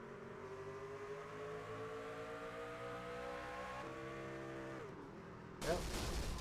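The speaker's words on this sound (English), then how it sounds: "Yep, you hear the engine blow." An outlaw race truck's engine drones steadily at high revs, its pitch sagging as the engine blows, before a sudden loud burst of harsh broadband noise near the end, heard from a distance.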